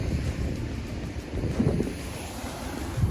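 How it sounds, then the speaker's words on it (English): Rumbling Atlantic Ocean surf at the shoreline of Cape Coast, Ghana, with heavy wind buffeting the microphone, a dense low roar that swells slightly midway. "this is the shoreline, the Atlantic Ocean."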